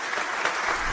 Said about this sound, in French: Applaudissons-la chaleureusement.